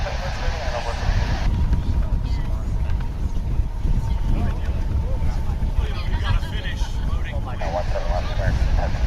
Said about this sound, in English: We're coming to you from a windstorm or a wind tunnel.